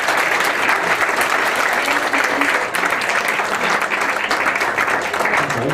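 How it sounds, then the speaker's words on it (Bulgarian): Guests at a wedding party applaud steadily and loudly, a dense continuous wash of clapping that holds at full strength throughout. "аплодисменти за тъщи и за съкърлата, които се справиха безкрашно"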